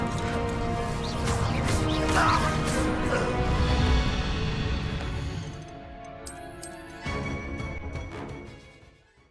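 A fire spell, Incendio, is cast in Hogwarts Legacy during the Ranrok fight, producing loud, dense whooshing and crackling blasts over game music, with another burst near the end before everything fades.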